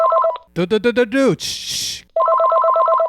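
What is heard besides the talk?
telephone ringing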